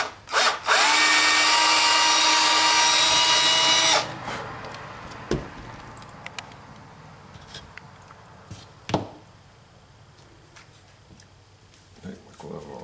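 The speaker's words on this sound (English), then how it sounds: "So now I'm going to drill this one." A power drill whirs loudly and steadily for a few seconds as it drills into wood, then stops, leaving quiet handling clicks and knocks.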